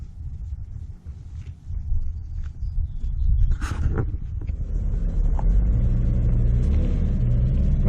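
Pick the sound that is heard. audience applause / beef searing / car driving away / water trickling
car driving away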